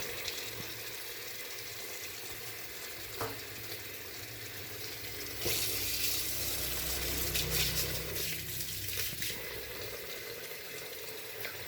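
Rice is washed under running water for a large batch of cooking, with a continuous hiss of the tap and a grainy swish of stirring that grows louder partway through.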